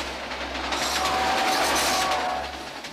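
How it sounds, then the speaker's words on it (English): A subway train rushes past at high speed, a loud, close roar of wheels and rail noise with a thin metallic squeal, swelling and fading over a few seconds with no talking. "was that subway going about 100 miles an hour too fast?"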